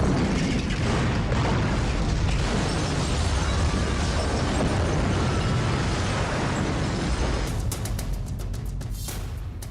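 Bomb explosion sound effect: a sustained, dense, loud roaring rumble with heavy low-end, continuous for several seconds, then crackling bursts and fading toward the end.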